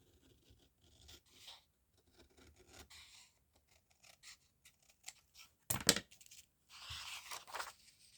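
Quiet scissor snips and rasping paper sounds come in short bursts as scissors trim a paper envelope, with a louder crisp cut near the middle and more rustling toward the end.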